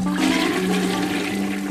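A clogged toilet flushes with a loud, continuous rush and gurgle of water, close by and steady throughout, with no voices.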